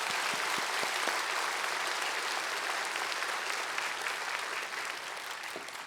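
Thankful applause from a church congregation at a Sunday worship service at Yeouido Baptist Church, steady and full throughout, fading slightly near the end.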